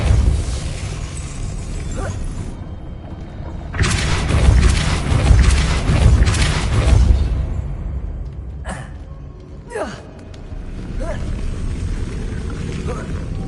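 Depulso spell cast in Hogwarts Legacy: a loud rushing blast swells for a few seconds amid rumbling game ambience, followed by a couple of sharp swishes, with a voice talking over it.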